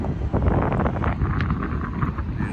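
Strong gusting wind buffets the microphone, a loud, rumbling roar with constant low-end blasts throughout, no speech.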